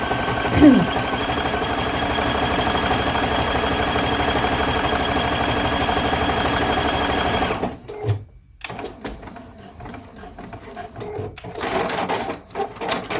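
A sewing machine stitching quilt block pieces whirs steadily and loudly for about eight seconds, then stops, and softer handling noises and quiet talk follow.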